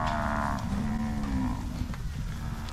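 A grumpy bull in a farm video game gives a long, loud moo that swells and then trails off into a lower drone. No one speaks over it.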